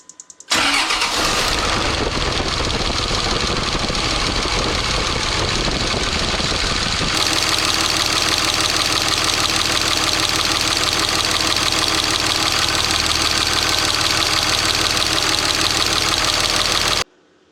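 A 24-valve 5.9 Cummins diesel truck engine cranks and fires close by, then settles into a loud, steady clattering idle that runs until an abrupt cutoff, with no talking.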